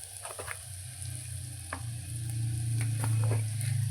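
Asafoetida hits hot oil for dal palak, giving a brief close sizzle with light stirring taps that swells slightly toward the end, heard alone.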